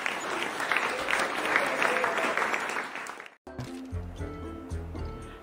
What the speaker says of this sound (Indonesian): itu adalah bunyi tepuk tangan